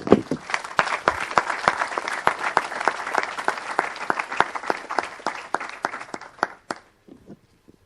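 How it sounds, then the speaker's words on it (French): Church congregation applauding in a dense, steady burst of claps that fades out near the end, with no cheering voices standing out. "On l'acclame, alléluia, gloire à Dieu."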